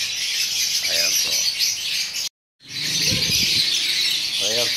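Pet birds in a breeder aviary chirp and tweet steadily, with a dense high chatter running throughout, a brief gap near the middle, and some low clatter and movement underneath.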